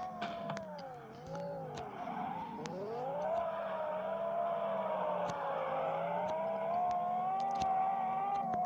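A Lamborghini engine in a car simulator game, a steady droning tone that rises and dips as the revs shift, holding loud and continuous with faint clicks on top and no talk.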